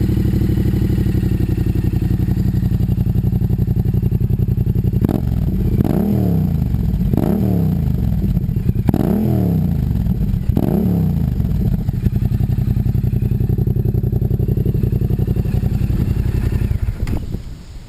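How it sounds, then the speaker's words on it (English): Motorcycle fitted with a new high-mounted exhaust muffler idling steadily and loudly up close, a deep continuous rumble with a few brief throttle blips partway through. "At idle, it's a little bit louder than the other muffler I had."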